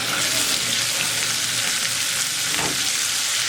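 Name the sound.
ginger garlic paste frying with onions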